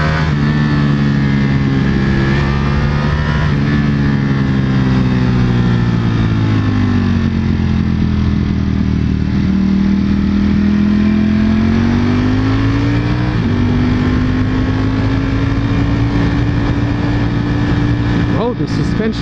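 A 2021 Ducati Panigale V4S on a test ride gives a loud, continuous engine drone from close by, its pitch rising and falling as the rider accelerates and shifts, mixed with rushing wind.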